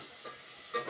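Chopped tomato fries in hot oil, a steady soft sizzle with a stirring scrape and a brief louder hiss near the end.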